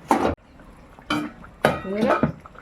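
A lid goes onto a pot of thin fish curry with susni greens, making three separate clattering clanks with short quiet gaps between them, close and fairly loud.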